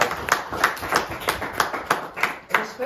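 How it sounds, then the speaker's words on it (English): Audience applause at a religious lecture, a steady run of claps at moderate loudness filling the whole moment with no talk over it. "So let's give Jesus and the Holy Spirit and his disciples a round of applause."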